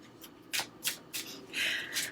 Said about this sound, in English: now I'm going to shuffle through